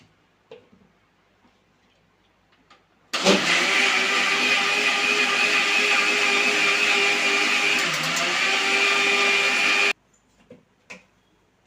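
A mixer grinder churns milk cream with cooling water into butter, a steady loud electric whir that starts abruptly, runs about seven seconds with a faint rattling texture, then cuts off into near silence.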